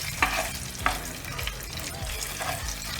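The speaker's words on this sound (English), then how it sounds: "I throw it in with the oil and the other spices" Bay leaves and spices sizzle in hot oil for an Indian eggplant bharta, a steady frying hiss broken by a couple of sharp clinks of a spoon against the pan.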